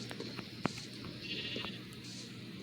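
Sheep in a video game bleat faintly, with one short, clear bleat standing out over a steady, low background hum.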